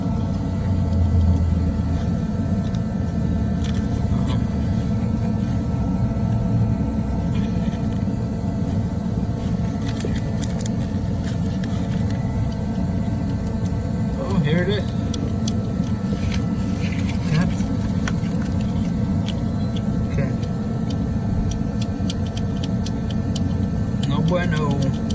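Dodge 3.6L VVT V6 idling with a failing valve lifter, a steady engine rumble carrying faint repetitive ticking, heard up close in the engine bay over a long continuous stretch.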